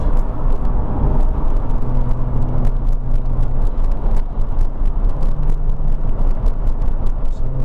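A Jaguar F-Type V6 roars loudly through a tunnel in North Wales, a dense, booming exhaust drone with sharp crackles and pops scattered across it, steady and close throughout.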